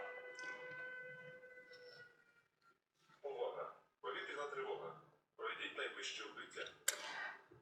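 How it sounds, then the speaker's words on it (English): A steady, wavering siren tone drones in the background for the first couple of seconds, then fades as bursts of nearby talking take over. "this sound is air raid siren"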